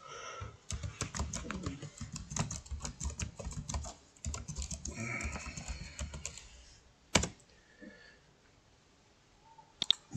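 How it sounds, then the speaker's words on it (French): Rapid keystrokes on a computer keyboard while editing text in the SIGIL eBook editor, dense close clicking that thins out to a few isolated taps and clacks near the end. "je peux changer le texte et taper absolument ce que je veux ici"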